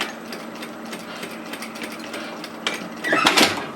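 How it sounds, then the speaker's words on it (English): A domestic sewing machine stitches a dress seam with a back tack, giving a fast, close mechanical patter that swells into a louder burst of rapid stitching near the end. "I'm going to start stitching again, remembering to back tack"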